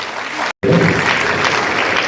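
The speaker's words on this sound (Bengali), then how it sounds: "তো দেবদত্তের জন্য জোর হাততালি" Loud applause from a crowd at a public solid-waste management event in Belonia, broad and steady after a brief cut-off near the start.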